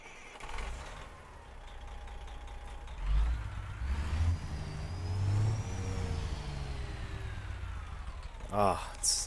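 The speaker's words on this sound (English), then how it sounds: "Go watch a YouTube video of a Detroit Series 60 engine, and it'll sound just like this." A Detroit Series 60 truck engine in American Truck Simulator hums and rises through gears, its pitch climbing and dropping with swells of low rumble, while someone talks over it throughout.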